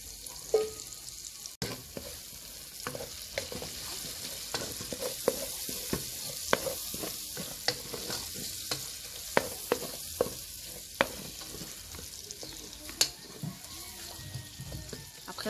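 Garlic, onion, bell pepper, celery and chives frying in a cooking pot, a faint steady sizzle broken by repeated sharp clicks and scrapes of stirring.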